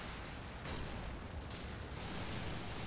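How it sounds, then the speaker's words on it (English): Dense, continuous roar of explosions and gunfire from a shooter video game, a wall of blasts and rapid shots with no pauses and no talking. "Oh man, so many explosions, man."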